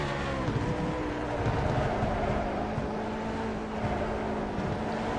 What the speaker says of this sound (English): watch and listen to his engine